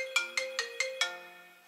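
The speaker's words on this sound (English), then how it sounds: "I need this phone call." Phone ringtone announcing an incoming call: five evenly spaced bright electronic tones, loud and close, with the last note ringing out and fading alone.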